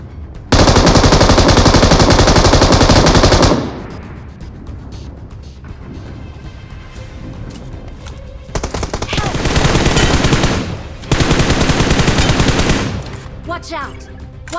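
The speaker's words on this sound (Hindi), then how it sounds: "गाइस मेरे ऊपर गोलियाँ चलने लगती हैं" Heavy automatic gunfire in the battle royale game BGMI on the Erengel map, a loud sustained burst at the start, then quieter scattered shots and two more dense volleys later, with faint background game sounds between.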